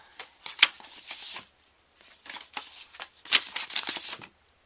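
Paper certificate cards from a reborn doll kit being shuffled and handled up close, with bursts of crisp flicking and rustling separated by short pauses.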